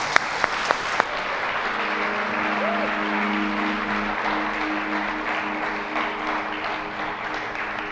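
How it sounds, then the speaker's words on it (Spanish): Congregation in a church service applauds for preacher Mateo, steady broadband clapping spreading through the room for the full stretch, with faint organ or keyboard tones sustained underneath. "Vamos a dar un aplauso a Mateo esta mañana."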